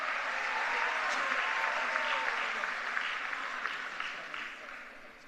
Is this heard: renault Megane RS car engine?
no